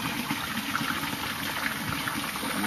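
Water gushes from an opened tap at a farm corral, running dirty, as a steady continuous rushing flow close by with no talk.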